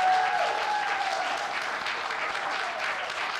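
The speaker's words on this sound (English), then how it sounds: "should we give them a round of applause again?" Audience applause at a junior house music performance, a steady wash of clapping from a crowd that holds strong throughout and stays sustained without a break.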